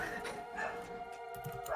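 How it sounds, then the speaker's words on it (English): A dog barks and yips in the background, faint and somewhat distant, in a short run of repeated barks with no talk. "My dog has been barking nonstop for the last 5 minutes"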